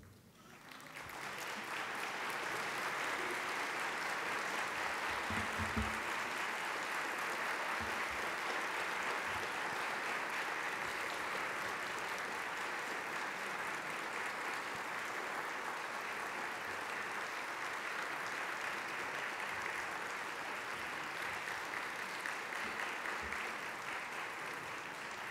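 An audience at an awards ceremony for the Orden del Pop and Premio Huun breaks into sustained applause that rises quickly and holds as an even, moderately distant roar of clapping for about twenty-five seconds.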